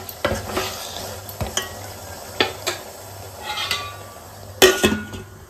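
Mutton curry with meat masala being stirred in a pan, a spoon scraping and clinking against the metal in irregular strokes over a steady low sizzle, with a sharper clatter near the end.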